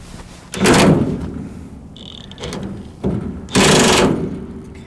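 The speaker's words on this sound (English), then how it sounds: "Get the toolbox door open." The metal toolbox door on a 27,500 lb crane truck is forced open with two loud, grinding scrapes and rattles, separated by quieter clanks and knocks close by.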